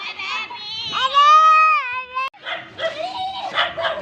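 A dog gives a drawn-out whining bark close by, followed by shorter yelps and a voice mixed in.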